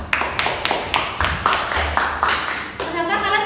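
A classroom of students claps for a classmate, about a dozen quick, sharp hand claps in a loose, fairly even rhythm, close and clear, ending with a brief spoken sound.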